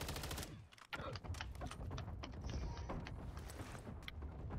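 Rapid gunfire from the Call of Duty Zombies game crackles in quick, irregular bursts throughout, faint and distant-sounding at a low overall level.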